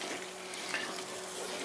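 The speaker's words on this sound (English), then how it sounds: "this skillet here, at the temperature I got it, is right on the verge of boiling" Orange gravy bubbles and simmers in a hot skillet, close by, as a steady soft sizzle with faint bubbling that runs unbroken and alone for the whole stretch.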